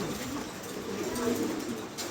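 Pigeons at a farm coo in soft, repeated calls, close by, over a constant noisy background hum.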